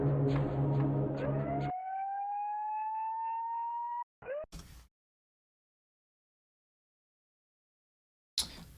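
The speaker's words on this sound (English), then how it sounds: "let's see if we can transform this from being like a boring police siren to being something spooky" Police siren sound effect rising into a steady wailing tone after a brief burst of dense noise, then cutting off abruptly, followed by short noisy fragments, silence, and another noisy burst at the end.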